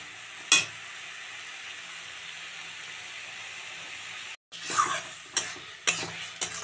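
Eggs cooked with chili, cumin, coriander, turmeric, salt and a little sugar in a pan sizzle softly under a constant hiss, broken by a short gap and then several louder scraping stirs near the end, with no talking.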